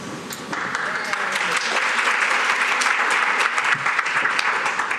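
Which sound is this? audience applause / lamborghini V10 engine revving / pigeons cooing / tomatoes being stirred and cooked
audience applause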